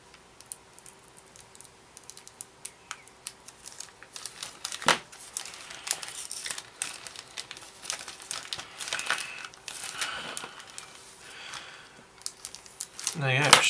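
Plastic bags being cut open to unpack the parts of a 1/48 scale Petlyakov Pe-2 model kit, with soft crinkling, scattered ticks and rustling that grow louder toward the end, while a voice talks.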